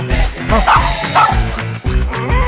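A dog barks and yips repeatedly in quick, loud bursts close by, with whimpering tones between them.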